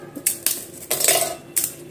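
Several sharp, brittle clatters as Krackjack biscuits drop into a metal bowl, four or five distinct hits spread over about two seconds, close and clear.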